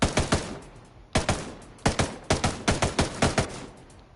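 Unsuppressed gunshots crack out in sharp, loud bursts: a quick trio, a pause, then a steady string of about ten rapid shots, each ending in a short decaying echo.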